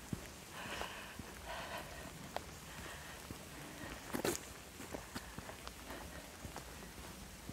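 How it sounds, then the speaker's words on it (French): Footsteps of a walker on a country path in the rain near Amboise, with soft irregular steps over a steady patter of rain and a brief louder scuff midway. "Je marche. Même sous la pluie"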